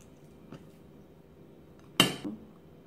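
Spiced fish landing on a plate in a kitchen, one sharp clattering clink of food and utensil against the dish followed by a softer settling knock, close and alone after quiet.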